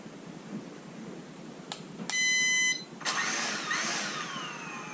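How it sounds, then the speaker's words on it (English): Holy Stone HS720E drone motors spinning its propellers up on a test after a broken-arm repair, a short beep followed by a rising whine, steady, fairly loud and close, alone with no talk. "that'll spin the propellers up, and we'll make sure that they spin"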